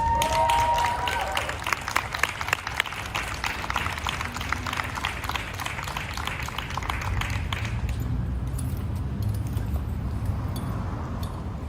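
A crowd applauds at an outdoor protest and recall petition kickoff at Portland City Hall. Dense, steady clapping runs loud for several seconds, then thins and fades into scattered claps and murmur.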